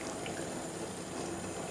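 Cooked chicken noodles dropped into cold water, giving a continuous close rush of pouring, splashing water with no talking.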